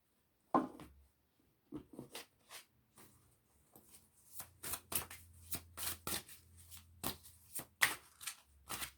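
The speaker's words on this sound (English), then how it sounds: "really want to draw another card on this one" Oracle cards are shuffled and drawn by hand, giving a quick run of soft, close riffles and flicks after a few scattered taps, with no talking over them.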